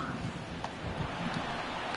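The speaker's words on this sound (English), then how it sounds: "This has got to be the hardest rain we've seen all afternoon." Heavy rain pouring down during a baseball game, a steady dense hiss of broadband noise, continuous and moderately loud.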